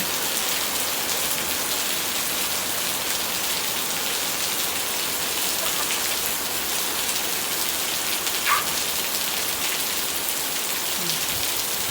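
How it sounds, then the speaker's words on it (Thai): Continuous rainfall in Chanthaburi, Thailand, hisses and patters on surfaces around, a steady wash of drops with a brief faint knock partway through. "ฝนตกที่จันทบุรีค่ะ"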